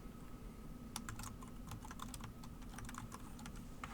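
Keyboard keys are typed in quick irregular bursts of clicks over a steady low background hum, close by and moderately loud, with no voices.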